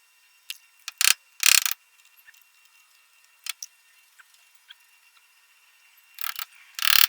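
Ratcheting adjuster turning a coilover on a Proton Satria's lowered suspension, short crisp clicking bursts in separate groups with quiet gaps, close and clear with no talk.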